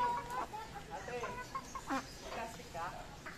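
Chickens and ducks cluck and call in short, repeated bursts at close range while being fed, with people talking quietly in the background.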